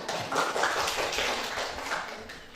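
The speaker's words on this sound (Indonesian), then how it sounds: "Luar biasa, tepuk tangan." Classroom applause during a geography lesson, a dense patter of many hands clapping together at moderate volume, sustained evenly for a couple of seconds in a reverberant room.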